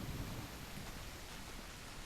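Steady rain pours in the video game Call of the Elder Gods, a dense, even wash of falling water with low rumbling body, continuous and fairly close throughout with no talking.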